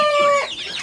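Brief chicken call from white Dong Tao chickens: a clear, close single vocalization with a steady tone breaking into a short rough cluck, alone without talk.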